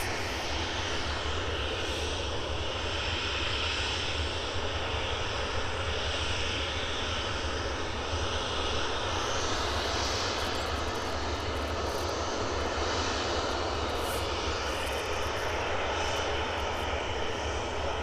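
A departing aircraft at an airport gives a steady, loud engine roar that holds throughout, broad and continuous with slight swells, heard from a distance with no talk.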